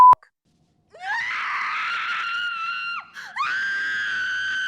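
A woman in a Buffy the Vampire Slayer episode lets out a long, loud, sustained scream, breaking briefly before resuming, after a short silence following a click.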